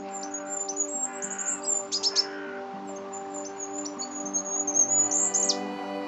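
A tiny yellow-crowned bird gives a run of high, thin, rapid chirps and trills, some brief and some lingering, set above a sustained musical backing with no talking.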